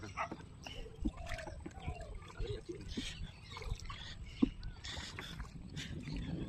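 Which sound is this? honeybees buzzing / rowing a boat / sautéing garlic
rowing a boat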